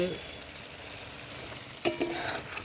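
Chicken pieces fried in a pan for a Bengali chicken dish, a low steady sizzle that turns into a few sharp scraping stirs near the end, close and moderately quiet.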